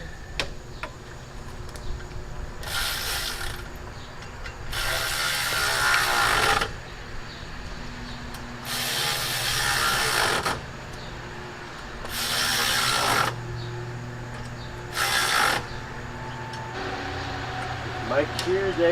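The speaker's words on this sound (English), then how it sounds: "See my ratchet? Electric ratchet." An electric ratchet runs in several bursts of a few seconds each on a 1972 Cutlass with a 455 big-block engine, its whirring separated by pauses of steady fan hum.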